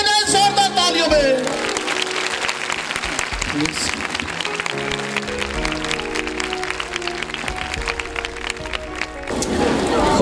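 Loud applause from a church congregation at a children's chapel service, a dense sustained clatter of clapping lasting the whole stretch, with musical tones sounding over it.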